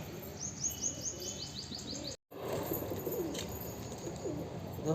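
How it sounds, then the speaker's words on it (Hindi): Wild pigeons coo and call in a series of soft, repeated notes, with brief chirps and some wing flapping against an outdoor background, continuing steadily apart from a short silent gap. "अब देख सकते हैं थोड़ा बहुत आ रहे हैं जंगली कबूतर।"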